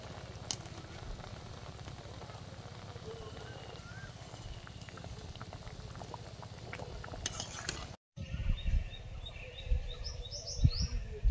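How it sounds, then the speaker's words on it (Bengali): Shol fish curry in a pan simmers with a steady bubbling, sizzling texture close by, with birds chirping in the background. A brief pause breaks the sound before the bubbling returns, louder. "তরকারিটা ফুটছে"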